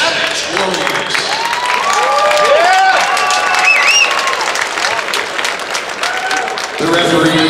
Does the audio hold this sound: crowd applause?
yes